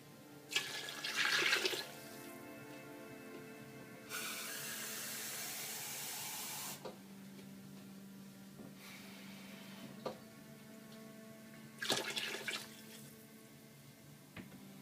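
Water running from a kitchen tap into a pot for Zuppa Toscana soup, a steady broadband rush lasting a few seconds mid-clip, framed by shorter splashy bursts and quieter clatter, no talking.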